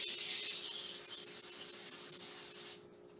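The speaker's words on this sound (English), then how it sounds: "Let me spray my container over here" A steady spray of cooking oil from an aerosol can hisses continuously for a few seconds close by onto a container, then cuts off abruptly, leaving a quiet room.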